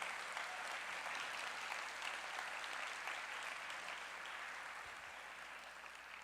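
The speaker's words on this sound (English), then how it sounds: "let's give a hearty round of applause for all of the educators" A room full of people at an art and writing awards ceremony applauds the educators, with steady, dense clapping heard from a distance that slowly eases in loudness over several seconds.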